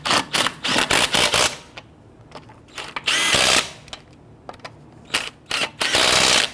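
Lug nuts being snugged down on a 2011-2017 Nissan Quest wheel with a power tool, heard as sharp, close, whirring bursts in quick irregular runs, separated by short quiet gaps.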